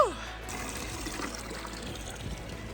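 Fresh river water trickling and flowing steadily close by, a soft continuous watery wash, with faint voices mixed in.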